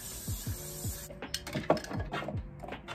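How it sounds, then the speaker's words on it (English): A hiss of spraying runs for about a second, then a series of light clicks, taps and handling noises follow at a moderate, close level. "I'm gonna spray some of this"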